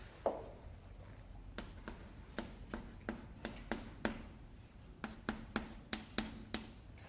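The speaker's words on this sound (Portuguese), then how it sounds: "Vou escrever de uma vez aqui." Chalk tapping and scraping on a board during a calculus lecture, a series of crisp, evenly spaced strokes in a quiet room with no talking.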